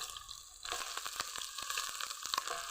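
Chopped onion, garlic and ginger frying in hot oil for a rice pulao, a steady close sizzle that jumps up suddenly and continues with small crackles and pops.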